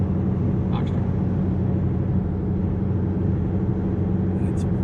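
A Shelby GT-350 cruises along a lakeside road between tall cliffs, a dense, steady engine and tyre drone filling the cabin without a break.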